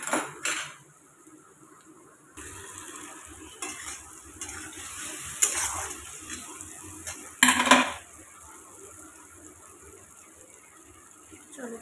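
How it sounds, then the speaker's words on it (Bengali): Onions frying in a pan, stirred with a metal spatula: intermittent scrapes and clinks over a steady low sizzle, close by, with a few sharper knocks against the pan. "চলো, পেঁয়াজ ভাজা হয়ে গেছে।"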